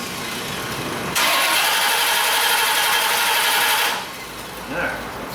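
A Chevy Corvette engine with a hot no-start fault cranks for about three seconds with a loud, steady starter whir that never catches, then cuts out to quieter background noise.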